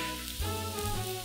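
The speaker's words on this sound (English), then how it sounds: "1/2 teaspoon salt, and sauté for 1 to 2 minutes until it becomes fragrant." Fennel seeds sizzle while sautéing in hot oil with salt, a close, continuous hissing fry across a short moment without any voice.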